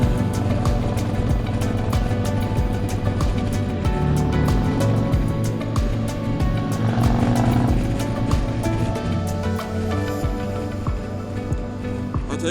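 At a motorcycle demo day, a motorcycle engine drones loud and close as its rider slips the clutch. The engine note holds steady and dense, with slight surges and a rough, continuous rumble throughout.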